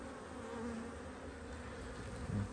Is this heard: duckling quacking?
no